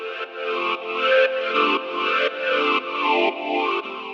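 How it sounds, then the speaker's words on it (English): AudioThing The Orb formant filter sweeping between vowel segments, turning a sustained tone into a loud, voice-like wah that shifts every half second or so, with a chorused, slightly distorted character and no talking. "so we can hear the obvious voice-like effect"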